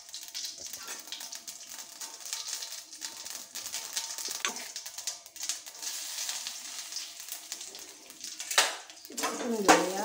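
Mustard seeds frying in about four spoonfuls of hot oil for a cashew apple curry, a steady crackling sizzle with scattered pops, clinks and stirring noises throughout, slightly louder near the end.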